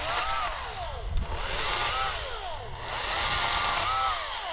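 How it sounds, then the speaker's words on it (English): A chainsaw runs steadily nearby, its engine note rising and falling in repeated revving sweeps as it works through wood, loud and continuous with no talking over it. "I can hear Dad working on the chainsaw."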